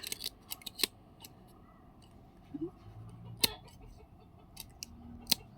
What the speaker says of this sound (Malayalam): പത്തഞ്ഞൂറ് രൂപയുള്ള കത്രികയാണ് ഞാൻ ഈ മീൻ വെട്ടുന്നത്